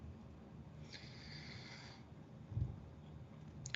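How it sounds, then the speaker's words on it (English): Soft, low snoring breaths from a puppy, with one louder snort-like rumble near the end, faint and close by. "I hear the puppy snoring so cute."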